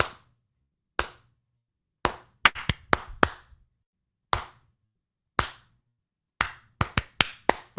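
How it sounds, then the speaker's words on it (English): Sharp, isolated cracks of gunshots at a crowded event, sounding like clapping sticks: single reports spaced about a second apart, then a quick cluster of rapid shots, each loud and dry against near silence. "That's what I thought the gunshots were at first."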